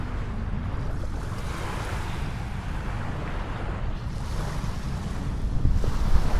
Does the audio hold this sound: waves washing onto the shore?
yes